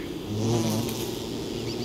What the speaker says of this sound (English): Dare I fight more bees?